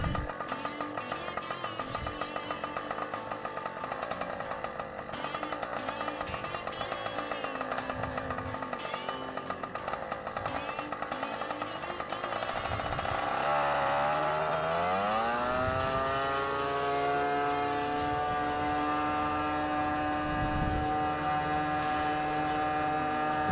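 The small engine of a powered hang glider drones steadily, then revs up to a louder, higher full-throttle roar for the launch at Manilla and holds there.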